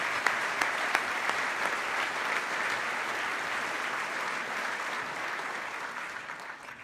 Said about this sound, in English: Let's give a round of applause for our chief judge